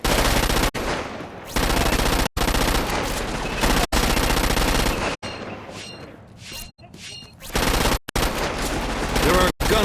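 Sustained automatic gunfire from the video game Crackdown 2 rattles loud and dense in long bursts separated by brief cuts, with rapid volleys and explosive shots filling the whole stretch.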